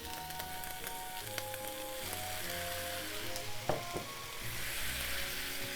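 Pork sizzles and crackles in a hot pan as it is stir-fried for an eggplant and oyster sauce dish, a steady close hiss with scattered pops and a brief clatter of stirring.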